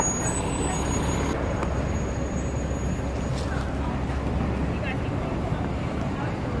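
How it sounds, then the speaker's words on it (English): Rush hour gridlock traffic in San Francisco: a continuous dense roar of idling trucks and buses with occasional air brake hisses, heard from the street while a person talks nearby. "Just nonstop gridlock traffic."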